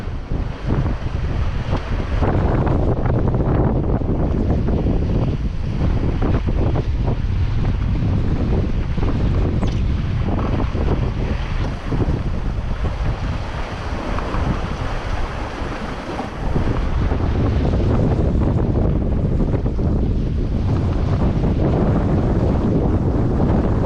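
Strong, gusting wind buffets a 21ft small sailboat on a solo Atlantic crossing, loud continuous roar with microphone rumble, splashing waves and surf beneath, briefly easing before surging again.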